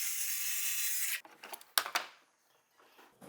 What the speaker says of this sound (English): you can take your circular saw and kind of cut this out to the best of your ability